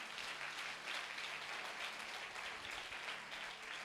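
A church congregation claps loudly and steadily in a dense, sustained round of applause with no voices over it.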